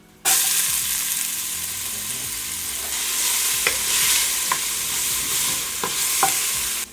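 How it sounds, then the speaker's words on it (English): Onions fry in avocado oil for a beef stroganoff, starting with a sudden loud sizzle as they hit the pan, then a steady hiss broken by several sharp stirring scrapes and clicks. "And I'm gonna go in with our onions."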